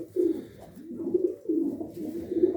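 Domestic pigeons coo in repeated low, throaty phrases close by, several rolling calls in a row with short pauses between them.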